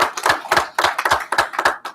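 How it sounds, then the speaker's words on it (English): Audience at a county police department progress report clapping for a public safety director, a short burst of hand claps in uneven rhythm, fairly close and loud, with no talk over it. "Let's give him a round of applause"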